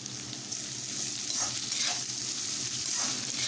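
Onions for vada curry frying in a pan, a constant close sizzle with soft stirring scrapes rising now and then, and no one speaking.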